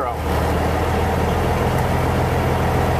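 A truck engine idling steadily at a raised 850 RPM on a cold minus 4 degree day, a loud continuous low rumble filling the clip with a faint voice underneath.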